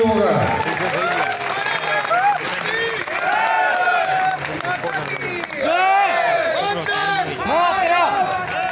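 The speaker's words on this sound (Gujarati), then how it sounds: "એક વખત એને એનો ઠાક ઉતરી જાય એવી તાળીઓ વગાડો." A crowd claps and cheers at a political rally for a by-poll in Jasdan, Gujarat, a loud, sustained wave of applause mixed with shouting voices that runs for several seconds without letting up.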